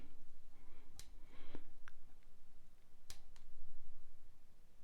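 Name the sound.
clipping thread ends off a crappie jig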